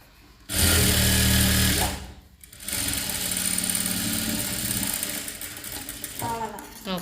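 A sewing machine stitching a government school uniform coat, running in close loud bursts with brief pauses between the seams, while a person speaks quietly at times.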